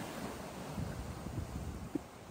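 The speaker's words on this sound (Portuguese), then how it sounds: "Cada onda gigante." Large ocean waves at Boa Viagem beach in Recife during a high tide: a steady roar of surf mixed with wind buffeting on the microphone, with a few heavier surges.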